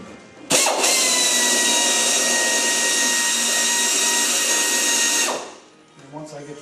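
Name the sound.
power drill drilling through material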